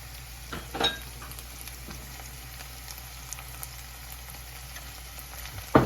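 Fenugreek seeds sizzling in hot oil, a faint, steady crackling fry with a few sharper pops and spatters, heard close with no talk.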